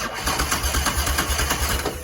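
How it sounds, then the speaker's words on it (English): The engine of a 2019 Highlifter 850 ATV cranks over on a newly replaced starter, a rapid, even chugging rhythm heard up close without any talking. "it turns over. The starter is working."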